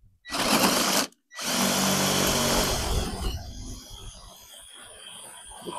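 A power drill boring a hole into PVC pipe for a Starlink mount, a loud continuous whirring grind that stops briefly, restarts, and then settles into a lower, rougher cutting tone as the bit works through the plastic.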